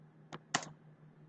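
Two quick keystrokes on a computer keyboard, close and light, sound while a form is filled in, set against a low steady hum in an otherwise quiet room.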